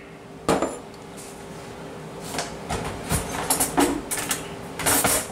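Dry flour, sugar and salt being stirred together in a bowl for a chicken pot pie crust, with irregular close clinks and scrapes of a utensil against the dish growing busier toward the end, no talking.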